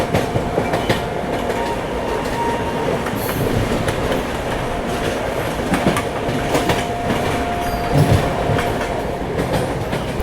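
Swatantrata Senani Express train accelerating along the track, heard from on board as a continuous loud rumble with steady clickety-clack of wheels over rail joints and faint squeals.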